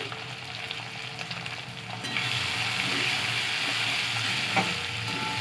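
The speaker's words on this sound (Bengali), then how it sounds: "ভালো করে পেঁয়াজটাকে লাল করে নেব" Onions frying in oil with cumin and green chili, a close hissing sizzle that swells louder about halfway through and stays steady, with faint utensil knocks and a single brief clink near the end.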